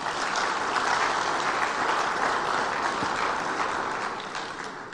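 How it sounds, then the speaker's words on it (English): Large audience applauding steadily for a government minister at a public enterprises league table event, a dense, loud, continuous wash of clapping that holds for about five seconds before easing slightly at the end. "I'd like all of you to clap for him, and this time a big clap"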